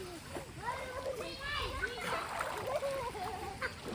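Splashing as people wade through cool water at a wild forest tourist spot in Telangana, with irregular sloshes under children's chatter and voices.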